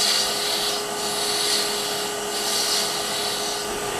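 A Hunter Hercules carbide cutting tool scraping wood on a lathe, a loud steady rushing hiss with a gently swelling rhythm as the spinning wood passes the cutter, continuous and close.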